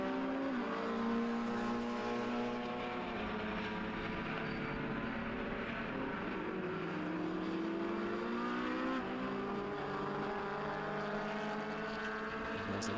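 Race cars lapping the Silverstone circuit during a BRSCC finals race weekend, including a Sapphire Cosworth, give a steady, loud, continuous engine roar with shifting pitch as they head down the back straight.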